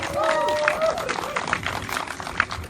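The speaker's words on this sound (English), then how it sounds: "Give him another round of applause." A crowd at a college tuition rally applauds a state assemblyman, a broad wash of clapping with a whistle and scattered voices mixed in.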